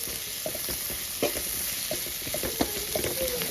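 Onion, garlic and ginger sauté in a pan under a constant hissing sizzle, with soft intermittent scrapes of a spoon stirring them close by.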